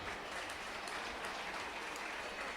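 Crowd applause at the awards ceremony of a youth football tournament, a steady, dense wash of many hands clapping that fills the whole stretch without pause, moderately distant.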